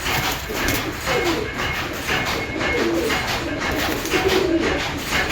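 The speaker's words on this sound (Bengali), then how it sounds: "ঘুঘু পাখি এসে বসে রয়েছে" Dove cooing near a pigeon loft that is being built and freshly painted, with low soft coos rising now and then over a steady outdoor background hiss.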